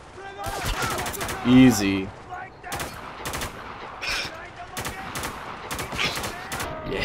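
Shotgun and other gunfire from the video game Spec Ops The Line, with repeated sharp blasts spread across the clip and a brief spoken word and game sounds in between.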